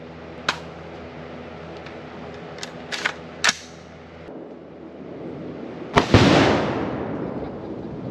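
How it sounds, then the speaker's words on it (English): A full pound of Tannerite detonates under a watermelon outdoors: one sharp, loud blast followed by a long rumbling decay, preceded by a few scattered smaller pops. "we have a full pound of Tannerite underneath a"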